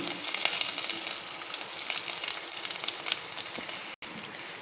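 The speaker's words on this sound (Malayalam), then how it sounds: "ചെറുതായിട്ട് അരിഞ്ഞു വെച്ചിട്ടുള്ള തേങ്ങാ പീസ് ഇതിലിട്ട് നമുക്കൊന്ന് വറുത്തെടുക്കണം" Small chopped coconut pieces fry in hot oil with a steady, bright crackling sizzle, close and continuous, with one brief dropout near the end.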